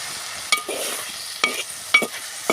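Tomato egg curry simmering in a clay pot, with a steady low bubbling hiss broken by a few sharp clinks and scrapes of a spoon against the pot, close and alone with no talk.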